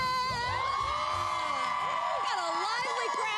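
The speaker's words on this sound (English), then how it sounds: "We've got a lively crowd out here" A lively college crowd at Wheaton cheers and whoops outdoors in the morning, with loud overlapping yells and rising shouts filling the scene continuously.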